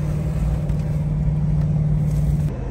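A Land Rover Discovery 2 engine labours steadily while driving through soft beach sand off-road. The drone is loud and continuous and eases slightly near the end.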